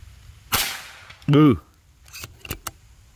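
An air rifle firing a 15-gram NSA pellet on a 100 m range gives a sharp crack. A brief metallic ring comes a moment later, with a voice and light clicks around it.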